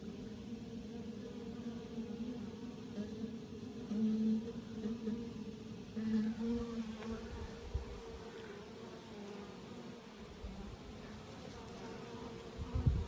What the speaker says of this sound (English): Shake the rest of these bees out.